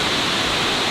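Shannon Falls waterfall crashes down in a loud, dense, continuous roar of rushing water, heard close up for a brief moment.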